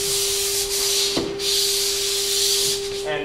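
Hand sanding of sheetrock joint compound makes a rhythmic, close, hissing scrape in repeated strokes over a steady background hum.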